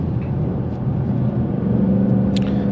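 A 2024 Ford Mustang GT Premium with a manual gearbox, heard from inside on a drive, gives a steady low engine rumble that rises slightly during a rev-matched downshift, with no talking.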